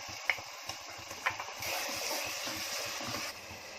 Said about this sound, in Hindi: अब भुनने के लिए मसाला डाल रही हूँ, टमाटर डाल रही हूँ